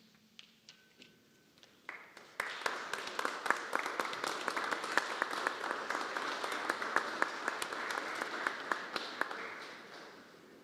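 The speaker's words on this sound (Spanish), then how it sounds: "El reconocimiento de nuestro aplauso para todos los maestros galardonados." Applause from an audience honoring award-winning teachers at a Teachers' Day celebration, beginning with a few scattered claps and swelling into sustained, dense clapping from a large crowd.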